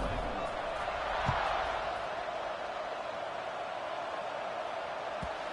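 A stadium crowd in the College Football 26 video game keeps up a broad, steady roar before kickoff, with occasional thumps and a commentator talking over it.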